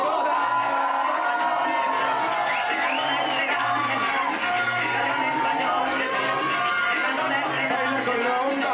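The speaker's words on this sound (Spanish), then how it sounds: "Que sea fuerte el aplauso para Stephanie Fox" Live comedy show audience applauding and cheering, a dense continuous wash of clapping with whoops and shouts, loud and sustained throughout.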